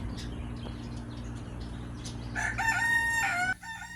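A rooster crows loudly nearby, a drawn-out cock-a-doodle-doo over a low steady hum and soft background clucking.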